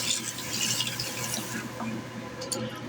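Running tap water rinses a hand under a kitchen faucet, a steady soft splashing hiss that continues throughout at moderate, close range.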